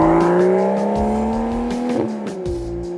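A sports car engine revs hard and steadily on snow, pitch holding high with brief gear shifts and a faint tire squeal, loud and close.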